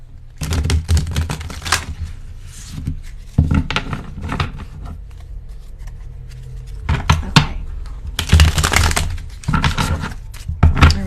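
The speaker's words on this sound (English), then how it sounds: "bear with me as I shuffle and lay out these cards" Tarot cards being shuffled and laid out in bursts of riffling and soft slaps, with a long pause in the middle, close and fairly loud, no talking.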